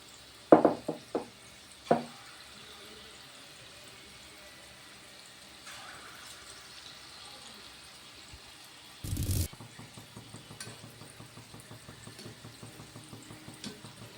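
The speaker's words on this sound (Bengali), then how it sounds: "এরকমভাবে আমি ভেজে নিচ্ছি" Palm fritters (taler bora) frying in hot oil give a low, steady bubbling, broken by a few sharp knocks early on and a brief loud burst near the end, then a faint, rhythmic crackle.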